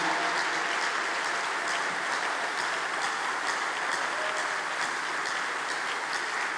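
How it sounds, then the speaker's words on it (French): A church congregation at a French-language prayer gathering applauds steadily and densely, a sustained wash of many hands clapping with no pauses and no talk over it. "Est-ce qu'on peut maintenant acclamer le Seigneur?"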